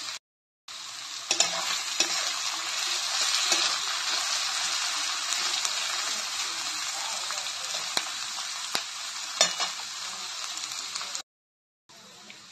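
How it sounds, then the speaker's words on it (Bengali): Chopped vegetables fry in hot oil in a pan, a steady loud sizzle with occasional scrapes and knocks of a spatula stirring them, continuous for several seconds. "এবার এই সবজিগুলোকে ভালোভাবে ভেজে নেব।"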